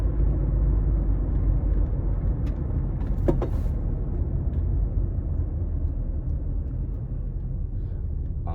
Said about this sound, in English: Sorry, I'm driving